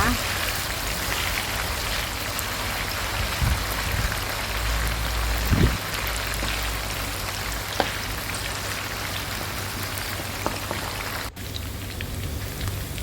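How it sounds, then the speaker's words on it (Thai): Pieces of chicken fry in hot oil over high heat in a wok, giving a dense, continuous crackling sizzle with scattered pops, heard up close with faint talk underneath. "ทอดไก่เราก็จะทอดด้วยไฟ ค่อนข้างแรงนะคะ"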